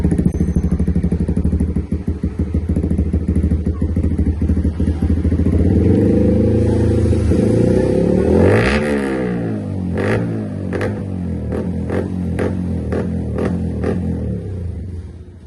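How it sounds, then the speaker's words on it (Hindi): A loud motorcycle with an aftermarket exhaust cold-starts and idles with a deep, rapid burble, then revs up and down in a series of sharp throttle blips, aggressive and close. "एग्जॉस्ट लग चुका है तो बस इस कोल्ड स्टार्ट"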